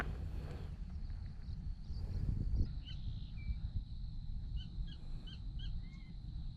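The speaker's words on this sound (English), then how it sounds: "all around me, I can hear different bird calls, frogs, insects, occasionally a grunt from an alligator." An Everglades natural soundscape in remote wetland: crow-like caws and scattered bird calls ring out over a low rumbling wind-like background, with several distant chirps and whistles.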